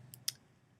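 Two quick, crisp clicks of a computer mouse close by in a quiet room, the second sharper and louder, followed by a low hum.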